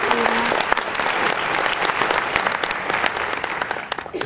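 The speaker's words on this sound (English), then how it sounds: "So they deserve a big round of applause," A concert audience at an all-county chorus performance gives sustained, dense applause, with many hands clapping steadily for about four seconds and scattered louder claps standing out.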